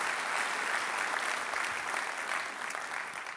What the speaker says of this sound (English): Let's give them all a huge round of applause for the work they do.